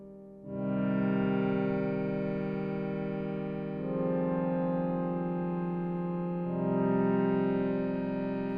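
A Roland Juno-D synthesizer plays a slow, sustained pad with heavy reverb, the chords swelling in smoothly and holding as a thick, moody layer that changes harmony twice, with no voices.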